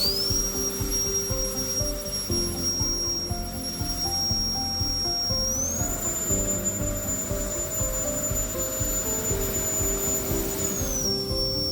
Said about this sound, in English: The turbo blower is lighter, way more powerful, cordless, and lasts longer on a full charge.